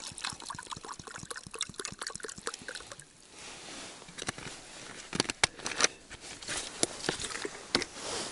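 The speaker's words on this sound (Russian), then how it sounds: "Так что наливаю по мерке." Water pours and splashes into an empty peach tin can used as a camp pot, a quiet patter and trickle with irregular splashy bursts, close up and alone.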